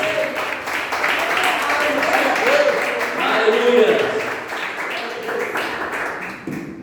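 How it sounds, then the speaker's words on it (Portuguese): Worshippers in a church congregation clap their hands during a Wednesday service, a dense steady mass of claps with shouting and voices mixed throughout. "Adora o Senhor com suas palmas."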